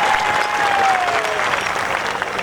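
Loud, close crowd applause at a community celebration event in Shirdi, a dense burst of clapping with a faint voice underneath.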